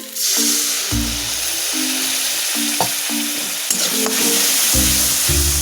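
Water poured into ground cumin and coriander frying in a pan for a stuffed egg curry, giving a loud, steady sizzle with bursts of hiss and stirring clinks throughout, no voices.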